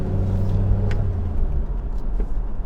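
A 1997 Toyota 4Runner third-generation SUV with 270k miles is driven hard through a handling test, its engine and road noise a steady, loud low rumble with no pauses.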